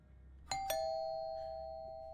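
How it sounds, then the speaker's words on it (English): A doorbell in the horror video game Fears To Fathom rings a clear two-tone ding-dong, the second tone sustaining and slowly fading over a low steady hum. "ring the doorbell after you've thrown a rock through my window"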